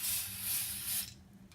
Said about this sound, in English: Don't spray it directly. Spray it on the rag.